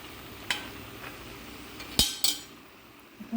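A metal spoon stirs a jackfruit seed and spinach stir-fry in a pan, with soft scraping and three sharp clinks against the rim, the loudest near the middle, and no talking.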